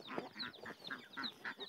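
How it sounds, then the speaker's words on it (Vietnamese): Hungry chickens and ducks cluck at feeding time in a rapid, irregular run of short calls, fairly quiet and with no talking. "Con vịt, con gà cũng đang rất là đói."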